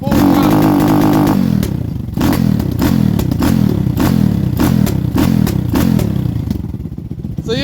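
A Lifan KP Mini 300 motorcycle with a swapped 4V ZS175FMN engine revs at full throttle, loud and close, holding a harsh high drone with rattling clatter and a quick dip midway before roaring on steadily.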